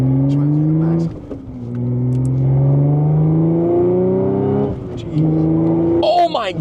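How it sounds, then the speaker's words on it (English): A supercharged Audi S5 B8.5 with a small-pulley upgrade and new injectors accelerates through rising gear pulls. Supercharger whine climbs in pitch over the engine drone, with some exhaust rattle. Voices can be heard inside the car. "Do you hear the exhaust rattling like crazy though?"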